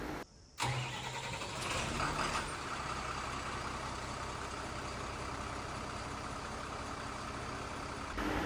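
A Tata truck's diesel engine runs steadily at a service centre as the vehicle is moved into position for a crane, a continuous close rumble that holds from just after the start to the end.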